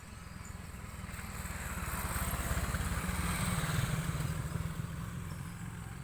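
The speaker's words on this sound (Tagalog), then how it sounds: "ang lakas ng busis ng kanilang mga motorcycle" Loud motorcycle exhaust with a steady engine rumble that swells slightly and holds, heard outdoors without speech.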